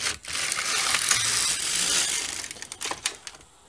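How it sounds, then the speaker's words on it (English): Needles being pulled forward on a midgauge knitting machine give a dense, continuous mechanical rasp that breaks into a few sharper clicks near the end, close and moderately loud with no voices. "I'm going to pull the end needles forward."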